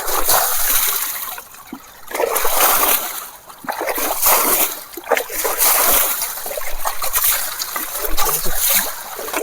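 Tractor driving through a village pond, its wheels churning and splashing muddy water in continuous surges and bursts, loud and close throughout with no talk.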